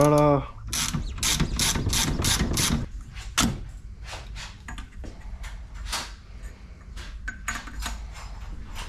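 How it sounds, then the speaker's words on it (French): Ratchet with a 28 mm socket working on the top of a Grip2 fork cartridge, a run of loud rapid clicking strokes followed by slower, lighter ratchet clicks and small metallic taps, close by. "On prend la douille de 28 exprès. On ouvre le dessus."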